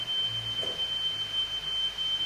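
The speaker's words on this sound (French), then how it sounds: "Désolé pour le bip qu'il y a" A continuous high-pitched electronic beep from a 2020 13-inch MacBook Pro, a steady thin tone that holds unchanged over faint background hum.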